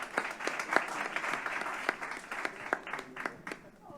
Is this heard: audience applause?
yes